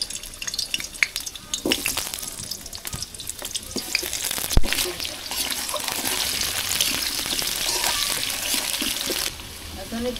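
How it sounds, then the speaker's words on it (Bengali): Running tap water splashes over cut chicken as it is rinsed in a home kitchen, a steady hiss close by with clinks of handling mixed in. "আমার চিকেন কাটা হয়ে গেছে, এখন এটারে পরিষ্কার করে ধুয়ে নিয়ে আসবো।"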